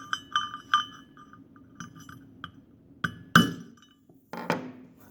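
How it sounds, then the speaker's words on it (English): Hammer striking a sulfur mineral sample, a series of sharp, glassy clinks and taps at close range, with a couple of louder cracking blows near the end as the brittle sample breaks. "Now we're going to break the sulfur."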